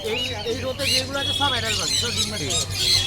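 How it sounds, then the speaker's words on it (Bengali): Double red factor pineapple conures at a busy pet bird market give short chirps and tweets among other birds, heard under steady close talking. "double red factor pineapple conure দেখো"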